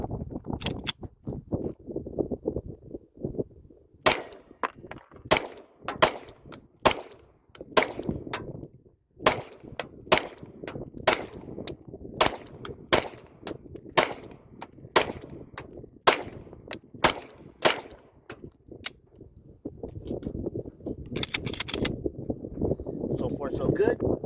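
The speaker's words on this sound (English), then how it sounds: "The second time I shot all 8 magazines loaded at 15" Springfield Armory XD Mod 3 pistol gunfire at an outdoor range: a long run of sharp, loud shots fired one after another at a steady, fairly quick pace with a few brief pauses, over wind noise and faint background voices.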